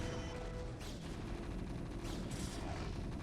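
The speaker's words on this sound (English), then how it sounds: "There's 2 siege tanks." Heavy artillery-style cannon fire from siege tanks in a StarCraft match, a dense continuous barrage of booming blasts with bursts of impacts, loud and close with no talking.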